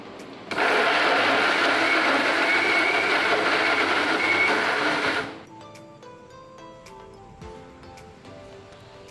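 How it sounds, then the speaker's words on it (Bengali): An electric mixer grinder runs loudly and steadily for about five seconds while grinding chicken meat into a paste without water, then cuts off abruptly, leaving quiet kitchen background. "এবারে এই মাংসের সমস্ত কিছুকে আমি মিক্সিতে পেস্ট করার জন্য মিক্সির জারে দিয়ে দেবো"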